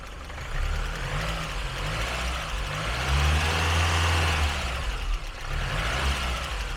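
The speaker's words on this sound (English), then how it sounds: "you can just hear how nicely it runs" A 1994 Bohse Safari, a Lada-based vehicle, runs close-up at slightly raised RPM, giving a smooth, steady engine drone with gentle rises and falls in pitch and no talk.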